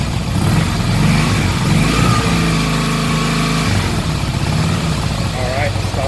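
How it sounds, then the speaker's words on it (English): A 2005 Harley-Davidson Softail Heritage motorcycle engine runs steadily at close range, its pitch climbing into a sustained rev before easing back, with talk over the top. "We're going to rev it up."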